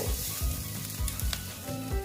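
Spices, including chilli powder, sizzle and fry in oil in a pan while an egg potato chop filling is cooked, with steady close crackle and a few stirring scrapes.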